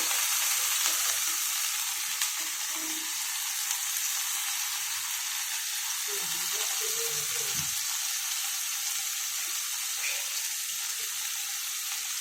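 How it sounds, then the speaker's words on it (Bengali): Bitter gourd frying in hot oil spatters and sizzles in a steady, loud hiss, with a few soft clinks and stirring sounds rising briefly near the middle and no talk. "দেখছো কি হারে চিটকাচ্ছে তেল"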